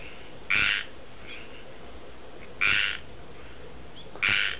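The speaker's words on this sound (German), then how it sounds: "Da sind im Übrigen mindestens drei Frösche gleichzeitig am Rufen." Several frogs call from a dense tangle of leaves, giving three loud, bright, short bursts spaced about two seconds apart, with fainter calls between them over a steady background hum.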